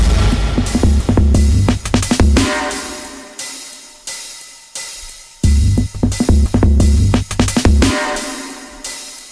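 Punchy, gritty electronic drum hits loop in a driving pattern with a warbling, modulated texture, dropping out briefly to a sparse gap before the beat returns.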